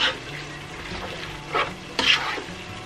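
Winter vegetables with spices being stirred in a hot pan, a soft continuous sizzle with a few scraping strokes of a spoon against the pan, close up and without talk.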